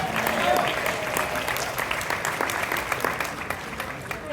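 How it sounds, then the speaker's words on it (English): An audience claps steadily at a team event, a dense continuous patter of many hands filling the room, moderately loud throughout. "Let's give her a round of applause."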